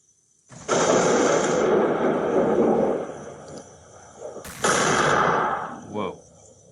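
A cinematic explosion boom sound effect: a loud, broad burst that sustains and rumbles for a few seconds, then fades, followed by a second sharp boom with a shorter tail and a smaller thump at the end.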